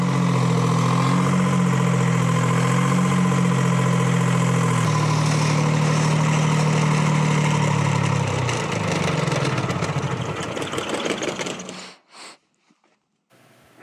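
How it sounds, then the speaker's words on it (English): A century-old Altman Taylor engine, just after a cold start, runs with a steady low chugging rumble. It wavers toward the end, then cuts out into near silence with a few faint knocks. "This engine just really doesn't like starting when it's cold."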